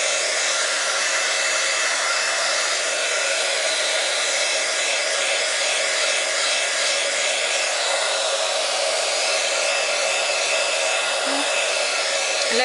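A hair dryer blows steadily over a watercolour card with embossing powder, drying the paint in one continuous, loud, even whoosh with no pauses and no talking.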